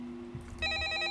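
A telephone rings inside the video game Shadow of Pharos. A bright electronic ring starts partway in and holds steady, clear and moderately loud over a low background hum.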